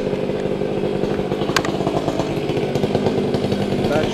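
A Milwaukee battery-powered top handle chainsaw cuts into a tree, its motor whining loud and close in a continuous buzz with slight pulsing as the chain bites through the wood.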